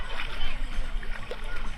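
Strong river current rushes and splashes at Daraitan in Tanay, Rizal, a steady close wash of churning water with voices faintly in the background.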